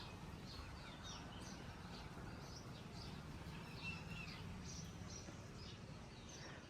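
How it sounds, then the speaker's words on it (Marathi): Faint birds chirp and call in short scattered bursts over a quiet, steady outdoor background. "फक्त पक्ष्यांचा आवाज"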